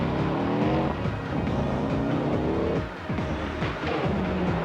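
A Subaru rally car on a 1999 Circuit of Ireland stage roars past loud and close, its engine note rising and falling through gear changes for the whole stretch, with no talk over it.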